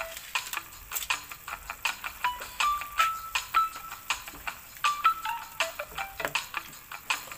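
Squid adobo with seasonings being stirred in a pan, with a steady run of soft, rhythmic scraping and clicking strokes and a faint sizzle underneath, close and fairly quiet.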